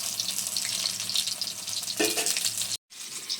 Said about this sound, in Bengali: এদিকে উচ্ছে পেঁয়াজ আর রসুন দিয়ে দিয়েছি, তেলে ভেজে নিচ্ছি।